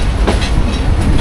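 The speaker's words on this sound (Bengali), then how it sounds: "ট্রেন কিন্তু একদম স্লো যাচ্ছে" A train rolls slowly toward a bridge under repair, its steady broadband rumble and rail noise continuous and close for the whole moment, with no voices.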